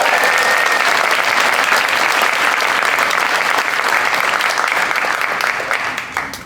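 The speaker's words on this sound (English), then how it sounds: "we ask you to join us in a rousing round of applause to show our appreciation towards them." A theatre audience gives sustained, loud applause after a Shakespeare comedy, a dense and even wash of clapping that tapers off in the final second.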